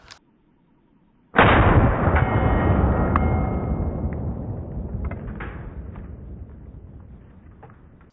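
A Fed Arm FX3 semi-auto 12 gauge shotgun fires a single loud buckshot blast at steel targets, its sharp report followed by a long, slowly fading rumble, with no talking.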